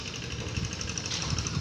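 A tractor engine runs steadily nearby, a rapid rattling, knocking chug with continuous mechanical clatter and a faint higher whine, loud and unbroken with no talking.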